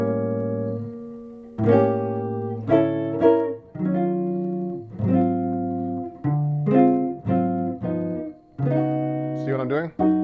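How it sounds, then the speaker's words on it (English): Solo jazz guitar plays a chromatic ii-V progression with a melody woven through, a series of sustained ringing chords, each struck then left to decay, close and clear with no talking. "So I'm actually doing that whole progression with the melody thrown in there"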